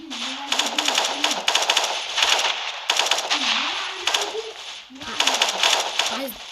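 Rapid automatic rifle fire in Counter-Strike, several loud bursts separated by short pauses, with a wavering tonal voice or sound running underneath.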